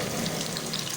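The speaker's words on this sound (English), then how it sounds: "cook them on low flame for 2 to 3 minutes." Chullo kababs frying in a pan give a steady, even sizzle, close and moderately loud, with no voices over it.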